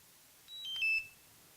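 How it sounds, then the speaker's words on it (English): A DJI Mavic Mini drone controller plays a short, faint run of high electronic beeps as it powers down, heard alone in a quiet room. "We're going to power down the controller."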